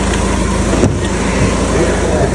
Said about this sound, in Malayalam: വണ്ടി സ്റ്റാർട്ട് ചെയ്ത് നിൽക്കാം